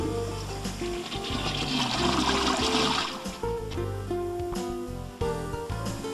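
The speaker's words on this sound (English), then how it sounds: "drain the tank by holding the flush handle down until" A toilet tank on an autoflush system empties as the flush handle is held down, with a steady rush of draining water, mechanical clicks and gurgles, close and fairly loud throughout.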